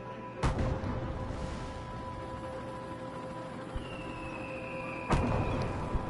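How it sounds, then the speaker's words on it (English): Fireworks burst over a lake in the Cities Skylines city-building game, two sharp distant booms several seconds apart with a faint whistle rising between them, over a steady ambient bed. "We got fireworks going on here at Lake Stafford."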